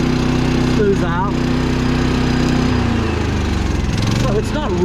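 An old RV's onboard generator, overdue for service and showing signs of air or fuel restriction, runs with economy mode switched off, a continuous steady engine drone heard close up while a person speaks over it.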